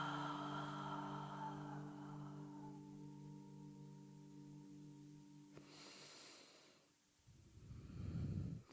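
A single deep, audible breath during a yoga pose, close and loud near the end, after a soft sustained tonal drone fades out.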